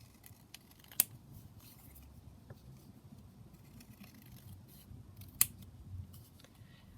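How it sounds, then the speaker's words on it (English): Scissors trim paper for a small paperclip pocket, giving two faint, sharp snips a few seconds apart over a quiet background. "I'm only trimming it down because it wasn't very straight"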